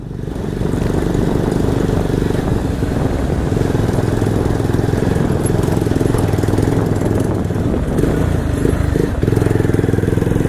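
A Bajaj Pulsar motorcycle engine with loose exhaust silencer packing runs loud and close on an offroad trail, a continuous rough, buzzing drone with a steady throb and no pause.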